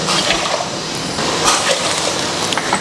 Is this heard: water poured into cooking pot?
yes